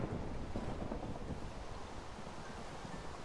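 Thunderstorm in the Minecraft video game, a faint, steady wash of rain and rumbling wind with no distinct thunderclaps and no talking.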